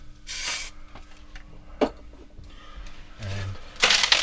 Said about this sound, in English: I'm just going to spray a bit of this